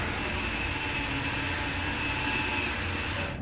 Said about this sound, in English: Oh, and we got a train coming up.